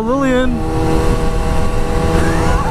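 A car passes close by in traffic during a motorcycle ride, its engine and road noise steady and loud beneath continuous conversation, with a brief rising whine at the start.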